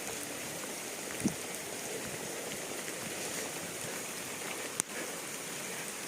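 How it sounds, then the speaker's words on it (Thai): Steady rain hisses evenly throughout a durian orchard in Chanthaburi, Thailand, with a couple of faint clicks and taps standing out; no voices. "ต้องรีบเดินนะครับขณะนี้ฝนตก ฝนตกตั้งแต่เมื่อคืน"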